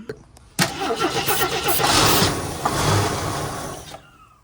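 An AMC Concord that sat for 26 years cranks and catches on starting fluid, the starter whirring briefly before the engine fires into a loud, rough, uneven run that cuts off abruptly.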